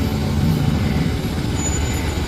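Heavy road traffic in a long queue of trucks and cars, a loud, close, steady engine rumble with a faint high air-brake hiss, no voices.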